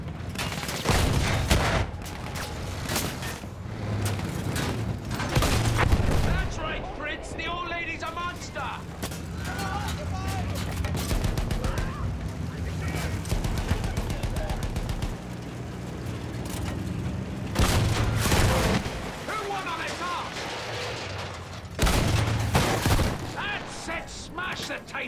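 Battlefield 1 World War I combat with repeated bursts of gunfire from a tank crew's weapons, steady rumble of the vehicle underneath and shouted voices throughout.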